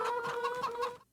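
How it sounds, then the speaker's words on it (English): Chickens housed in a coop in Farming Simulator 25 give a short run of quick, close clucks in a rapid pulsing rhythm, then stop abruptly, with no talking. "Right now we have 85 out of 300 chickens in here."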